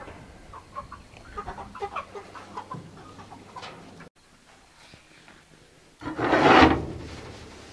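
Cornish Cross meat chickens cluck and murmur inside a ventilated livestock trailer after being loaded, a busy cluster of soft close calls and rustling, a quiet pause, then a louder burst of wing flapping near the end.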